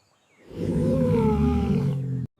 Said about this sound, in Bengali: এইটা হলো সিংহ ছানা সিংহ ছানাকে ইংলিশে বলে লায়ন কাব